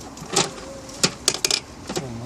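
A 10mm socket works a bolt loose on the engine of a 2.0 TDI Audi A6 (C6 4F) during EGR valve and intake manifold removal, giving a few close, short ratcheting and metallic clicks in quick bursts over a low background hum.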